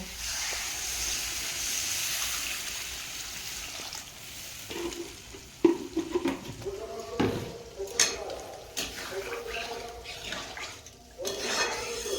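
Water poured onto fried potatoes in a hot pan sets off a hissing sizzle, followed by stirring knocks and clatters of a spoon against the pan, close and uneven.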